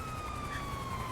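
Ambulance siren wailing steadily through city traffic, a continuous sustained tone at moderate distance with no talk.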